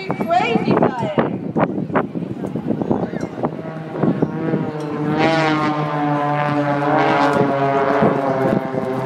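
A Blades aerobatic display team aircraft passes overhead at Cromer Carnival, its propeller engine droning loudly and rising in pitch, while a commentator talks over it.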